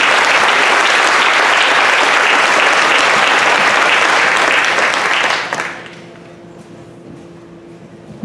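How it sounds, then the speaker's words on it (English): An audience at a homelessness summit gives a loud round of applause, dense and sustained for about five seconds before it drops off quickly into quiet room tone. "Can we give a big round of applause to Colin Kosmicki?"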